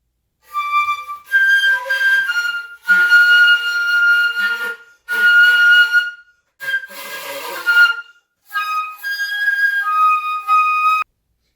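A flute played with poor tone gives breathy, airy notes in short phrases with pauses between, the tone thin and hissy rather than clear, no voices.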